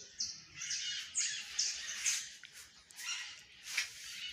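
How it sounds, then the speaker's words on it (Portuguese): A small bird sings outdoors at a country smallholding, its high, bright chirps and trills repeating in short bursts at moderate distance with no talk over it. "Esse passarinho tá muito cantando maravilhoso."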